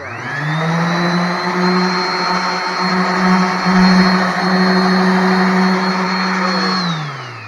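A Dewalt orbital sander with a dust bag grinds over patched drywall mud, its motor rising into a loud, steady whine that holds for several seconds before winding down, close up with no voices.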